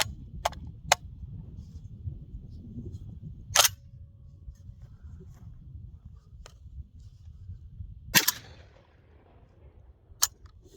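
A Citadel Boss 25 shotgun fires a few sharp, widely spaced reports, distant-sounding and brief, over a low outdoor rumble of wind.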